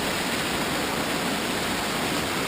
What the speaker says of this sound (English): What a beautiful waterfall.